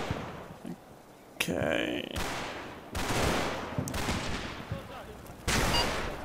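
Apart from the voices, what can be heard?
mortar fire landing in Combat Mission video game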